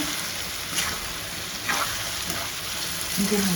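Bottle gourd and fresh coconut fry in a pan with a steady, even sizzle and faint stirring scrapes, heard up close with no speech.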